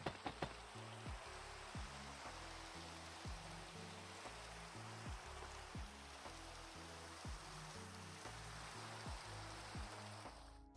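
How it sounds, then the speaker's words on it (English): Steady Minecraft rain hisses continuously in a modded game world, a dense wash of falling water at moderate volume, with a rhythmic low musical pattern underneath. "I just really hate rain, especially because it's so loud"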